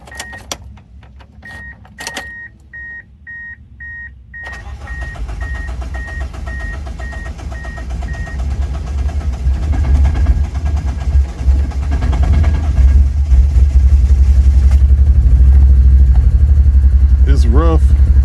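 A 1999 Mitsubishi Eclipse cranked and started after sitting for two years, with key and chime beeps first, then the engine catching and running loudly and roughly up close, a voice speaking over it.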